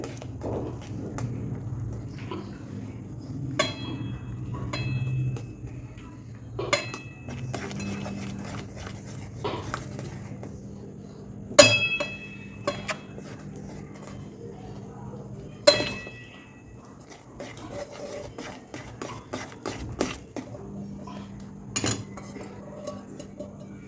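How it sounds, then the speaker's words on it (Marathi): Gram flour (besan) is stirred bit by bit into boiling water in a pan. A spoon clinks and scrapes sharply against the metal at irregular intervals over a low steady kitchen hum. "उकळी आलेल्या पाण्यामध्ये थोडंसं थोडंसं टाकून आपण मिक्स करत राहायचं आहे म्हणजे बिलकुल गुठळी बनली जात नाही"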